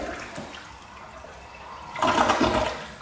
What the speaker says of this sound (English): Now, let's talk about the actual flush.